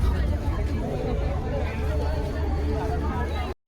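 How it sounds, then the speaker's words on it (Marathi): Crowd chatter at the Rotary Panvel festival, a dense babble of many voices filling the space steadily before cutting off abruptly at the end. "गर्दी आहे खूप"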